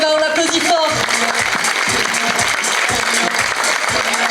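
A crowd at a cosplay contest on stage applauds a winner, steady clapping heard alongside amplified music with a rhythmic low beat and a voice over the top.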